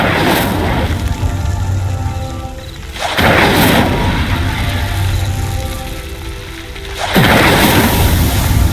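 The Incendio fire spell from Hogwarts Legacy bursts into a loud roaring whoosh that surges twice, broad and rushing, over a bed of game music.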